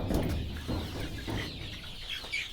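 Local chicken chicks mill around at a poultry farm, a continuous overlapping chorus of peeps and clucks close by with no voices.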